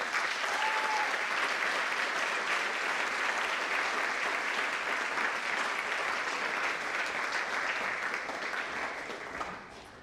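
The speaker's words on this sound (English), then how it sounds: "Let's give these kids a big round of applause." A large audience at a high school honors night applauds steadily for about ten seconds, a dense, even wash of clapping that fades slightly at the very end.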